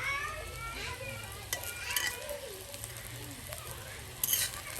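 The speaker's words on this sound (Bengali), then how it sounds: "লাল লাল করে ভাজা লাগবে।" Food frying in a pan over a wood-fired village hearth for a Mymensingh dal and bottle gourd dish, a steady close sizzle with scraping stirs and a few clinks of utensils, no talk.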